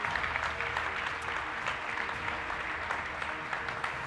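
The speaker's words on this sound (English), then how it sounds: "Please give him a round of applause." Steady applause from a crowd at a summit, dense clapping that stays even and sustained throughout without any voices standing out.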